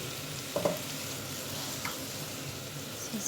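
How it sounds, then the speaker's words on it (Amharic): Meat frying in a pan, a soft continuous sizzle with a few brief scrapes of stirring, close but fairly quiet. "እንደዛ አድርጌ ያንቀላላሁ ነው ስጋውን"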